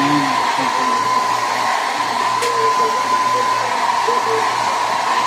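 A hair dryer blows hair steadily at close range, a loud, even whine and rushing airflow that holds for the whole stretch, with faint murmurs beneath it.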